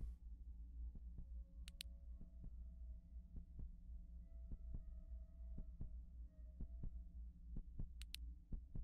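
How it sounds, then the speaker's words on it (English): Low heartbeat thumps from the stress meter in the game Noxia Somnia pulse steadily, roughly one per second, over a quiet background hum, with a couple of faint high clicks. "That little heart meter, you can actually hear your heartbeat."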